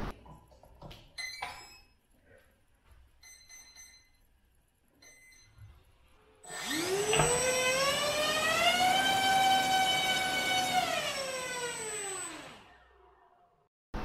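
A 2500 KV brushless motor on a 3S battery during a thrust test spins up from about 6.5 s into a loud, steady, rising whine with strong harmonics, holds for several seconds, then winds down; faint clicks and handling noises come before it.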